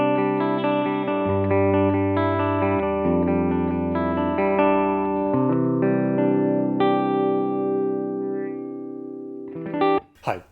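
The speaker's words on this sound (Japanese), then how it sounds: "まずはフェンダーのデラックスリバーブのモデリングですね。" Clean electric guitar through a Strymon Iridium pedal on its Fender Deluxe Reverb amp model, sustained chords and single notes ringing out with gentle reverb, then fading before a couple of brief handling thumps.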